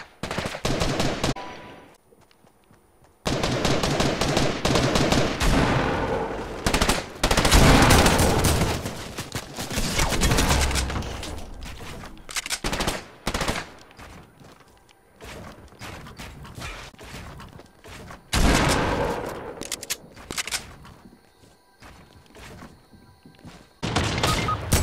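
Gunfire in the video game Fortnite, with repeated rapid assault-rifle bursts and single loud shots coming in dense clusters between short quiet gaps, loud and close throughout.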